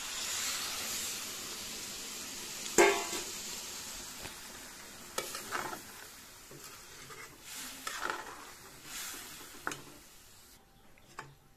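Ground spice paste of coriander, cumin, garlic and a few chillies sizzles and fries in a hot pan as water goes in, with a sharp burst of hissing followed by spluttering and crackling that gradually settles.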